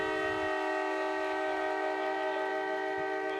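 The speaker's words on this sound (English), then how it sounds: "Train horn blaring into the night." A train horn blares at night near a ballpark during a Lima Locos vs Hamilton Joes championship baseball game, one loud, sustained, steady chord held for the whole stretch with no talk over it.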